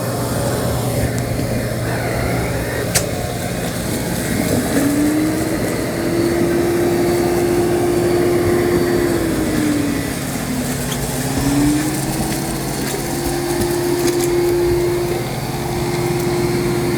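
A Dyson Spot+Scrub AI robot vacuum whirs steadily close by, its motor tone rising and dipping in pitch as it works across the floor.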